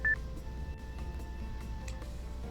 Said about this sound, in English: I hung up after trying to call my little sister.